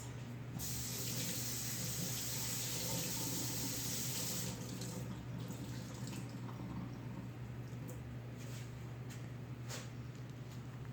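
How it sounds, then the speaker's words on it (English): Tap water running into a sink while a rag is rinsed out during a reborn doll's bath, a steady close splashing flow with a few brief sloshing bursts toward the end, no voices. "so now we're going to rinse the rag out again and wash his face"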